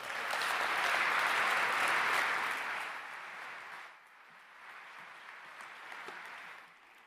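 A lecture audience in Brussels applauds, a loud burst of clapping that swells, then thins and fades over several seconds to scattered claps.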